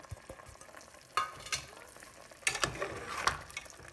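A spoon stirs mutton curry in a pot after salt and ground masala go in, making soft scraping and clinking that bunches into several louder bursts over a low background hiss. No one speaks.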